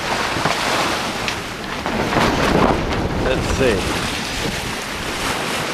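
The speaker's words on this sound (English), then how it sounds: "Perspective on the waves coming in on you." Steady rush of ocean swell and waves against a sailboat at sea on a gray day, mixed with constant wind noise, while a voice speaks briefly over it.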